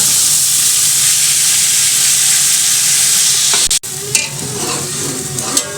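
Chicken and tomatoes sear in a pot for matar chicken pulao with a loud, bright hiss, then a sharp knock and scraping stirs as the pieces are turned, the sizzle dipping briefly before carrying on.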